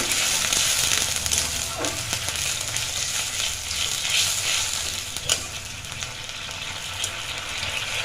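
Bowl-rinsing water poured into a hot pan sets off a loud, steady sizzle and spatter, with faint stirring and scraping over about eight seconds and no talking.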